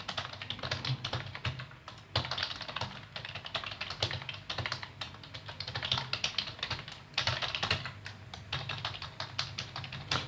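Rapid, irregular clatter of keys typed on a computer keyboard during data entry, close and steady for the whole stretch with short pauses, no voice over it.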